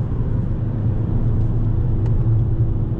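A Fiat Punto 1.4 engine holding around 3500 rpm on a wet forest road in the rain, a steady loud low drone with road rumble, no talk.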